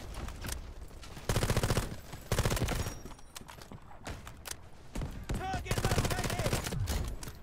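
Rapid automatic gunfire in Delta Force Hawk Ops comes in several sustained bursts of fast, crackling shots, loud and close, among other game sounds.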